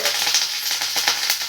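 Curry leaves hit hot oil in a pan and sizzle fiercely, a loud continuous close-up crackle and hiss with small popping spikes throughout.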